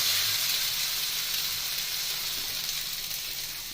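A soft roti cooks on a hot tawa with a steady, fairly loud hiss and sizzle, a continuous bright crackle that eases slightly toward the end, with no voices.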